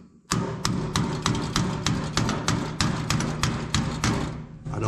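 A metal hammer strikes sheet metal being shaped, a string of loud, roughly evenly spaced bangs that continue through the whole stretch after a brief quiet start, with no talking.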